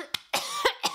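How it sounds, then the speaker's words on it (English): A person coughs and clears their throat close up, making a quick series of sharp, raspy bursts within about a second, with no speech. "I needed to clear my throat"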